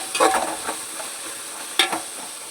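Tomatoes fry in a pan while a spoon stirs them, giving soft scraping strokes and light sizzling at close range, with two clearer bursts of stirring.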